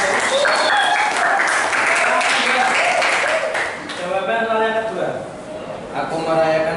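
Classroom applause for a student group in a religious-ethics lesson, a continuous wash of many clapping hands that dips midway and then swells again while people talk over it.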